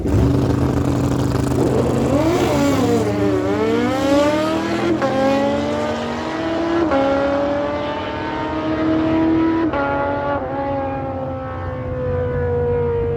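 Two drag cars, a Honda and a 1980 Datsun 280 ZX, launch and run at a dragstrip, their engines roaring loud and close, then rising and shifting through gears as they pull away.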